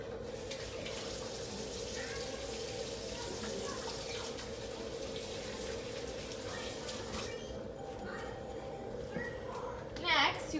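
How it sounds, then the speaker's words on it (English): Hands being washed under a running kitchen tap while cooking borscht, a steady close hiss of flowing water lasting throughout, with a brief louder splash near the end. "Let me wash my hands real quick because that's unsanitary."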